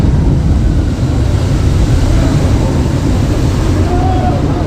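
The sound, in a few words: waterfall at the Jurassic Park ride, Islands of Adventure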